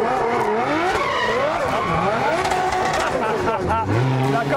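A drift car at a drift challenge event skids with squealing, smoking tires while its engine revs rise and fall through sweeping pitches, loud and close, with voices faintly mixed in beneath the roar.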